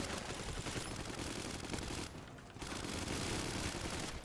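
Dense automatic gunfire in the video game GTA V during a roleplay gang fight, a continuous loud barrage with a brief dip in the middle before it resumes.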